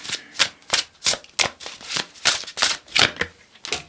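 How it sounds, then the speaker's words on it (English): Hand shuffling of tarot cards: a rapid series of crisp, papery riffles and slaps, about ten bursts in quick rhythm, close and clear with no talking. "I'm actually going to do a little bit more hand shuffling here."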